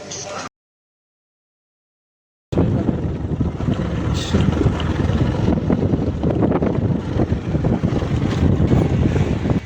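Two-wheeler started and ridden on the road, with steady loud wind buffeting the microphone throughout after a short silent gap at the start.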